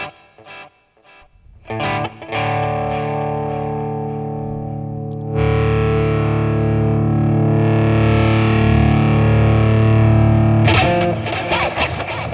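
An electric guitar played through a Boss Katana 50 MKII amp with a phaser chorus effect: a few choppy strums, then a loud, sustained, swirling chord ringing for several seconds before quick picked notes close it out.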